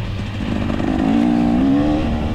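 A 2024 KTM 300 dirt bike engine revs up and eases back during a hare scramble race on a wooded track, a close, buzzing two-stroke whine rising in pitch mid-clip over the rumble of riding.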